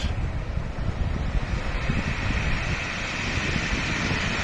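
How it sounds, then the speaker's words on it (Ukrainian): Rough sea waves washing gravel along a windy beach, a continuous loud rushing roar with heavy low rumble and steady hiss, no distinct breaks, wind buffeting the microphone throughout. "А чуєте шум, як щебенку вимиває."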